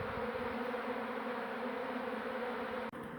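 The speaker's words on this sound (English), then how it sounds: "I started to get a build-up of bees just here" Dense swarm of bees buzzing during removal of a hive from a brick wall, a continuous close hum with steady tonal drone and no voices, briefly dipping near the end.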